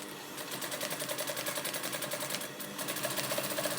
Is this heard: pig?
no